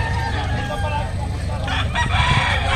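At a market in Bocaue, Philippines, a rooster crows nearby amid other chicken clucks and background farmyard noise.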